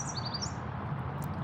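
Faint bird chirps twitter briefly in the opening moments over a steady outdoor hum, then fade into the background noise.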